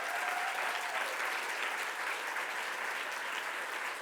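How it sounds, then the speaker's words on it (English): An audience gives sustained, even applause for the Hilton Foundation team, a dense and steady wall of clapping lasting several seconds at a moderate distance. "they deserve a very big applause from all of us"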